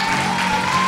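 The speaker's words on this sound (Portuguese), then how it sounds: "aplauda o Senhor Jesus" Church congregation applauding together, a steady dense wash of clapping sustained evenly throughout, close and fairly loud, with a faint tone running beneath it.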